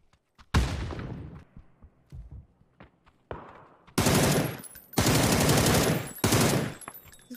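Assault rifle fire in a battle royale shooter, starting with scattered single shots and short bursts that build into long, loud, close automatic strings separated by brief pauses.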